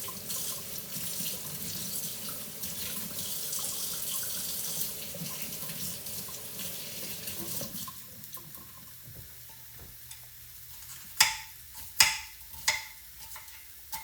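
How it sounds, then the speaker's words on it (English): Cold tap water runs into a kitchen sink while greens are rinsed by hand, a steady gushing stream for several seconds that then cuts off, followed by a few sharp clatters and splashes of handling. "I'll rinse it really good in some cold water."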